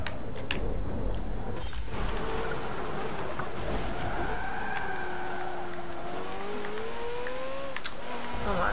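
A race car engine in Forza Motorsport 7 builds speed, its whining pitch climbing through gears in rising sweeps, loud and continuous, with scattered clicks over the steady drone.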